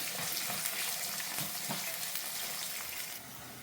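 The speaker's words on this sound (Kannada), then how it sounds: "ಇವಾಗ ಈರುಳ್ಳಿನ ಹಾಕೊಳ್ಳೋಣ. ಇದನ್ನು ಅಷ್ಟೇ ಸ್ವಲ್ಪ ಕೆಂಪಾಗೋ ಥರ ಹುರ್ಕೊಳ್ಳೋಣ." Chopped onions frying in hot oil in a pan for tomato chitranna, a steady close sizzle and crackle that holds evenly throughout with no one talking.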